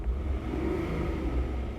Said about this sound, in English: Driving a Datsun for the first time.